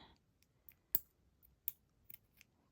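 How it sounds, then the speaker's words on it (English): Scissors snip through elastic bracelet cord in a few sharp, quiet clicks, one crisp cut standing out amid faint handling noise. "Cut the elastic."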